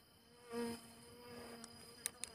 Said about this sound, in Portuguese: Eu acho que isso aqui é vespa,